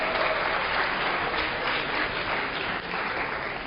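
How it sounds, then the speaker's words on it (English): A lecture-hall audience at a Yale game theory class applauds a student, a dense, steady wash of clapping that holds at even loudness throughout with no speech over it. "Let's have a round of applause for Patrick"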